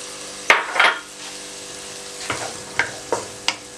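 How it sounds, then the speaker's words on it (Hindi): Onions frying with carrots and peas in a pan for chicken vegetable noodles, a soft sizzle broken by several sharp scrapes and taps of a spoon stirring against the pan. "1 मिनट तक आप मज़ीद फ्राई करें ताकि प्याज भी नरम हो जाए।"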